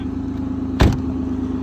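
An Aston Martin sports car idling in snow, a low steady engine hum broken by one brief sharp burst near the middle, close and fairly loud.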